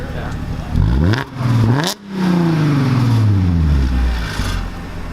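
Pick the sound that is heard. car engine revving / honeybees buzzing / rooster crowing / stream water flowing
car engine revving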